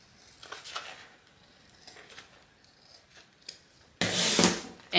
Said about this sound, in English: Let's trim down our seam allowance.